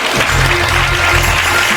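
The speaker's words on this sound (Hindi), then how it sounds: "जोरदार ताली।" Loud, dense clapping from a church congregation during a Sunday service, a brief continuous burst of applause with a low hum beneath it.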